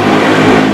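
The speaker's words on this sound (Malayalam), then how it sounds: "ഏതൊക്കെയോ അവന്മാർ ബൈക്ക് കൊണ്ട് പോകുന്ന സൗണ്ട് ആട്ടോ നിങ്ങൾ കേട്ടത്" A motorbike passing by, loud and close, with a steady droning engine roar that holds for under a second, no voices.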